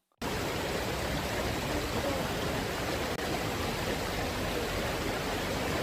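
Floodwater rushing through Pamanukan, Subang, as a loud and steady broadband roar that goes on without a break for the whole stretch, with no voices over it.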